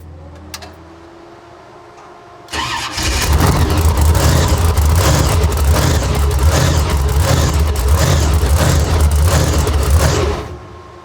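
Grave Digger monster truck's supercharged 540 cubic inch Merlin methanol engine firing up after a quiet lead-in, then a loud, steady, rumbling idle that runs for several seconds before cutting off abruptly.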